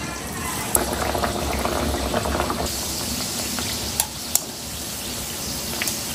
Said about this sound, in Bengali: তেল তো গরম হয়ে গেছে, তেলের মধ্যে ছেড়ে দেবো